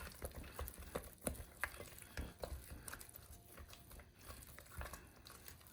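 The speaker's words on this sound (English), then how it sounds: "Just a cap full of vanilla, and I'm gonna mix that in really good." Vanilla being mixed into a thick homemade fudge mixture, soft sticky stirring and scraping with irregular small clicks and squelches, close and quiet, no voices.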